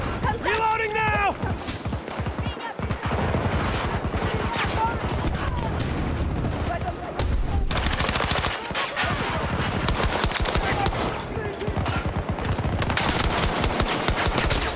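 Continuous machine gun fire in a video game rattles loudly and steadily throughout, with a voice speaking over the shooting.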